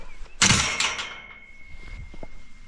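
A gate on a walking trail along Glyndwr's Way between Abbeycwmhir and Llanidloes opens with a loud knock and rattle, followed by a thin, steady squeak that fades out. Faint rustling and footsteps follow.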